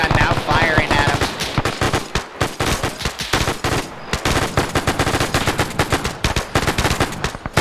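Rapid bursts of anti-aircraft gunfire in a WW2 video game, loud and dense, firing in sustained volleys with brief pauses over about eight seconds.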